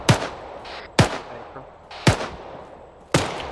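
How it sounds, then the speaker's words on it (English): Mortar rounds fire in the military shooter game ArmA 3, four loud, sharp booms about a second apart, each trailing off in a short rumbling echo. "Mortars out friendly."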